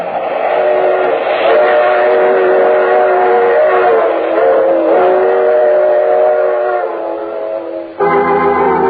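A train whistle or horn sounds in an old radio drama, a long loud harmonic wail with rumbling rail noise beneath, then a brief break and a second whistle blast near the end.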